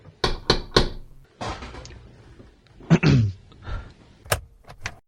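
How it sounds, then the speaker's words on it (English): Knocking on a house door: a quick burst of three sharp raps, then further scattered knocks and thuds among shuffling sounds, fairly close and loud. "I don't know why I knocked on my own door"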